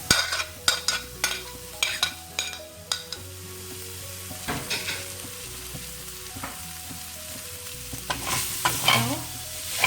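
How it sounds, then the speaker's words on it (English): Shredded salmon pieces stir-fried in a pan: loud, close crackling sizzle broken by repeated sharp scrapes and taps of the spatula, growing busier toward the end, with no voices. "It's time to add the shredded salmon pieces."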